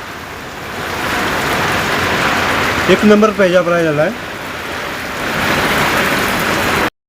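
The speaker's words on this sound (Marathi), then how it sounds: "पाऊस तुफान आहे बघा" Heavy monsoon rain pours in a steady, dense hiss throughout, close and loud, while someone speaks briefly in the middle.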